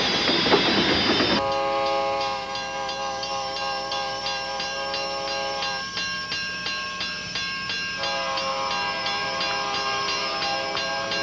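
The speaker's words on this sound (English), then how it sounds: "the train's coming." A train rolls along the tracks toward the listener, a loud sustained rumble with steady clickety-clack rhythm and tonal squealing or horn-like tones running throughout, no voices.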